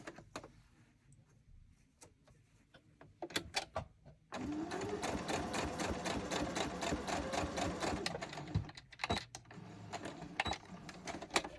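A sewing machine stitches lace onto a junk journal. A few short clicks come first, then a fast, rhythmic mechanical chatter runs steadily for several seconds before slowing into brief bursts, heard close in a quiet room.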